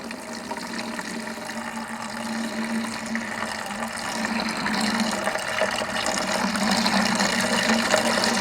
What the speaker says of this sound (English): So I'm just going to pour gently so that I don't stir up the clay that's already settled.